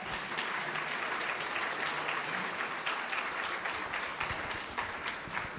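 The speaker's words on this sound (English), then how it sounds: "I'd like to get a round of applause for a panel that's come in under time" A conference audience applauds a panel, a dense, even wash of many hands clapping that holds steady throughout at a moderate distance.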